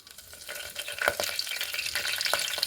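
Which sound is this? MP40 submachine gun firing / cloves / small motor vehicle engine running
cloves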